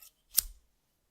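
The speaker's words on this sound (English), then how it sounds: "I got some scissors." A single sharp metallic snip of scissors, close and crisp, with a faint click just before it.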